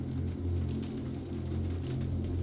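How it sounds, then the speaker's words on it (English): Steady falling rain hisses evenly across the whole stretch, a dense soft patter layered over a low, constant hum, with no voices. "The soundtrack of falling rain lulls you deeper and deeper down"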